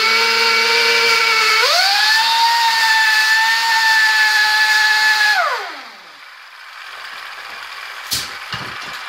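An air grinder spins up an inverted gyroscope, its steady high-pitched whine climbing to a higher pitch and holding for several seconds, then winding down and fading out, with a few faint knocks afterward.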